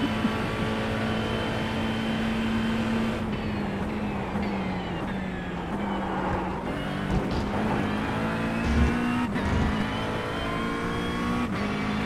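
Porsche GT3 race car in iRacing during a European GT3 league round at Montreal, a steady high engine drone with shifting revs and gear changes, loud and close, alone without talk.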